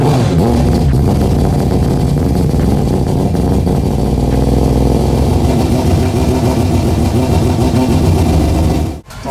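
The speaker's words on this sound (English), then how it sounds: "this 3-rotor RX-7 is gonna sound pretty tame compared to what we were just listening to" A Mazda RX-7 with a three-rotor rotary engine runs close by, a loud steady mechanical drone with slight revving fluctuations throughout, cutting off abruptly at the end.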